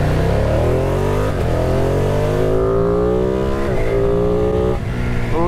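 Ducati Streetfighter V2 motorcycle with its Superquadro twin engine revving hard and loud, repeated throttle blips rising and falling in pitch, close and continuous throughout with no talk.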